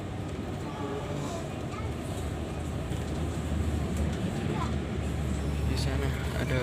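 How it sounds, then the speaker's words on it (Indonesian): A passing train makes a continuous low rumble and clatter that swells slightly toward the end, heard from up close. "ada kereta api"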